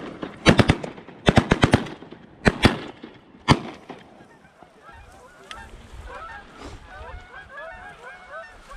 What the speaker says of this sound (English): We're gonna shoot here in a second.